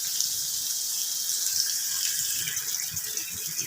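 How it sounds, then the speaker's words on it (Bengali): Water pours steadily into a karai, a cooking pan, during preparation of a chhana curry, making a continuous close hiss and splash throughout. "প্রথমে একটুখানি জল দিয়ে দেবো কড়াতে"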